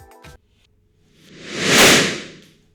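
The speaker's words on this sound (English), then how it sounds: "the pre-ringing caused by a bursting balloon would sound like this" A simulated bursting balloon smeared by pre-ringing into a swelling whoosh that rises for about a second, peaks and fades away, following a brief clipped sound at the start.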